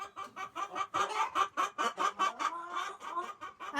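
Backyard hens cluck in a steady run of short, close, fairly loud calls, with no talking over them.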